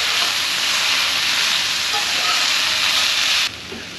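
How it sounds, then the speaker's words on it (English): Leafy greens sauteing in a hot pan, a steady loud hissing sizzle that holds evenly for several seconds before dropping off abruptly near the end. "We're just gonna keep sauteing it."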